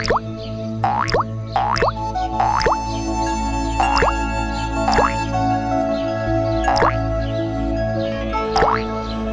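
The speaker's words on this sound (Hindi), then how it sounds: "और उसे पानी के बर्तन में एक एक करके डालना शुरू किया।" Pebbles plop one after another into a pot of water, each leaving a bright, springy drip-like tone, spaced a second or so apart, close and clear.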